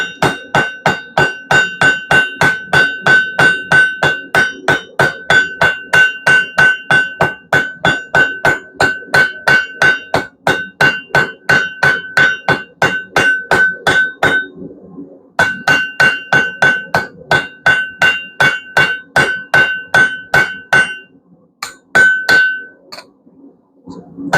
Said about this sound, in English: Let's heat it up again. Back to the anvil.